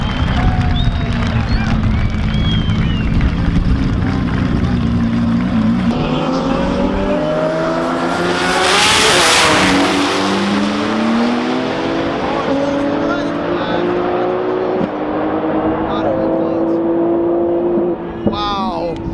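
Cars making a drag racing pass at the TX2K22 event, with loud, close engines roaring and revving through rising gear sweeps, a sharp burst of noise midway, and steady background din throughout.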